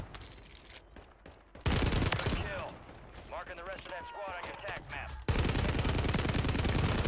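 Rapid automatic STG44 rifle fire in Warzone on Rebirth Island, sustained loud bursts of closely spaced shots with short breaks between them, mixed with voices and game effects.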